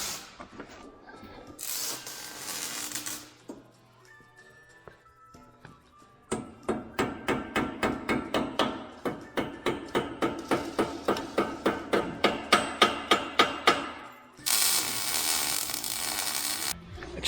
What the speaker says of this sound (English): You got like a hammer we could tap around it?